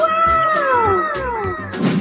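Several drawn-out, falling meows from a cat in an Animal Crossing-style video game, loud and close, with soft thumping game sounds underneath.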